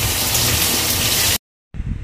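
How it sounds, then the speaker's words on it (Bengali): Potatoes frying with crushed garlic in a pan for a Bengali fish curry with capsicum, a loud dense sizzle that cuts out abruptly, goes silent briefly, then resumes more thinly, with no talking. "এবার দিয়ে নেব আলু, ভালো করে ভেজে নেব।"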